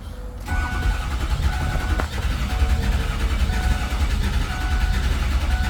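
A 2006 Ford F350 pickup with a 6.0 Powerstroke diesel cranks and catches, then runs at a rough, close idle whose revs rise and fall continuously.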